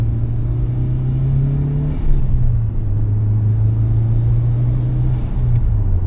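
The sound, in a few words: Mitsubishi Lancer Evo 6 car driving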